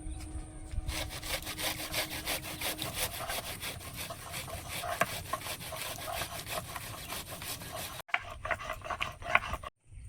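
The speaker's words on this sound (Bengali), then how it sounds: "তেল কইয়ের জন্য পেঁয়াজটা আমি ঘষে নেব।" An onion is grated by hand for a fish curry, producing a close, steady, rhythmic rasping scrape that continues for several seconds, stops briefly, then resumes.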